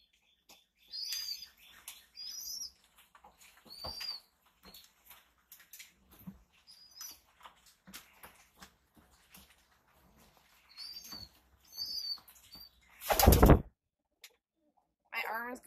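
Pet birds in an indoor loft give scattered high chirps, followed near the end by a loud burst of flapping wings.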